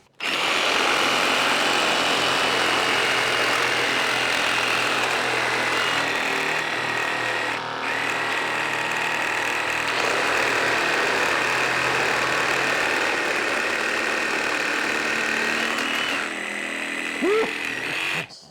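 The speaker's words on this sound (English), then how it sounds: "Let's continue doing some more cutting and see how these reciprocating saws do." Flex and RSC reciprocating saws cut through particle board with a loud, continuous buzzing motor roar that holds steady for most of the run, with a brief dip midway and a stop near the end.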